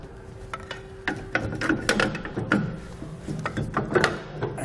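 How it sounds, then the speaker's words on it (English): A pry bar working a Dexter trailer hub and drum assembly off its spindle, giving irregular metallic clicks, scrapes and knocks, close and moderately loud, with no talking. "So I'm just kind of using a pry bar just to get them worked off of here."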